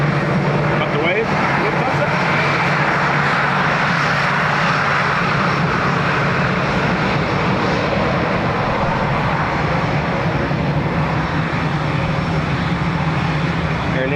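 Aer Lingus airliner in rugby livery, arriving from Berlin at Dublin Airport, fills the air with a loud, steady jet-engine roar that holds for the whole stretch without easing.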